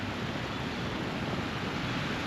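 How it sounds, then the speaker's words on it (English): Steady waterfall beside a lake, a broad continuous rushing roar with no breaks, moderately loud and unchanging throughout, with no voices. "listen to the waterfall"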